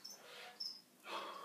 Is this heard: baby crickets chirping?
yes